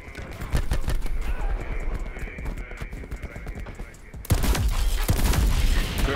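Weapon fire in Black Ops 4 crackles in rapid bursts, close and loud, with a denser volley of shots near the end.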